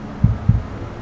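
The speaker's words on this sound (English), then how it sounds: "You hear that? Little heartbeat." Heartbeat sound played inside the Mercedes AVTR concept car's cabin: two deep, soft thumps in quick succession over a steady low hum.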